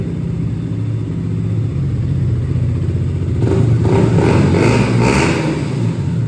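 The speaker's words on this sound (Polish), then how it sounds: "Już tutaj delikatnie słychać takiego bandziora w wydechu." A 2016 KTM Duke 125 engine idles with a throaty exhaust burble through a muffling insert, then revs higher midway through, loud and close, settling back to a steady rumble.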